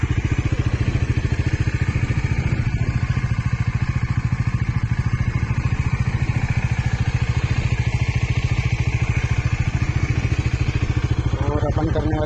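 A 2025 Bajaj Dominar 400 motorcycle idling up close, a steady, fast, even thumping throb that holds loud and unbroken throughout, with someone talking over it at times.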